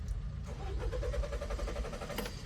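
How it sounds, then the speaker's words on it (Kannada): A Tata Intra V30 pickup's engine cranks continuously with a rhythmic, labored whirr but never catches, heard close and steady with no voices. "ಗಾಡಿ ಸ್ಟಾರ್ಟ್ ಆಗ್ತಾ ಇಲ್ಲ"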